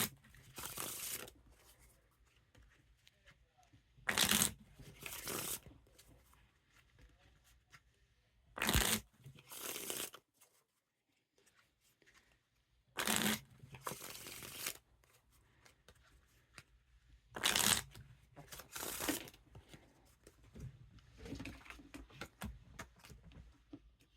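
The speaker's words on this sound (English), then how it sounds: "Now time for the riffle shuffle or bridge shuffle" A thin, bendy deck of Vouge Pro playing cards is riffle shuffled five times, each a sharp, close burst of fluttering card noise, separated by quieter gaps with handling and bridging.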